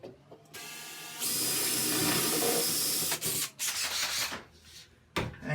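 Power drill with a larger bit boring an anchor hole into sheetrock, a close whining buzz that starts up, holds steady for about two seconds, then stutters and cuts out in short bursts.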